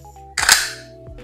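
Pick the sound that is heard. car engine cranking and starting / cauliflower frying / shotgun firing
shotgun firing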